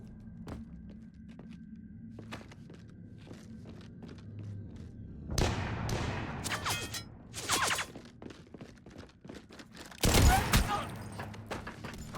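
Mass Effect 3 combat gunfire lays down covering fire: sporadic distant shots give way to a dense crackling volley, then a heavy burst near the end. No one speaks over it, and low rumbling ambience runs underneath throughout.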